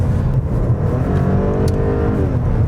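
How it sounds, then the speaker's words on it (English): A 2012 Audi A7 with a supercharged V6 accelerates along a country road, heard from inside as a loud, steady engine drone with rising whine and no voices. "So I love the sound of this supercharged V6"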